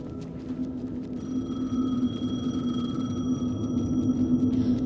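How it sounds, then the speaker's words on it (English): A payphone rings steadily in the video game Alan Wake 2, with a bright electronic bell tone held over a constant low ambient drone and no voices. "The payphone was ringing."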